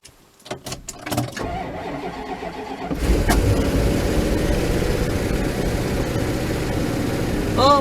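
A parked vehicle's engine is started with the key after sitting idle: a few sharp clicks and cranking, then at about three seconds it catches and settles into a loud, steady running rumble close by.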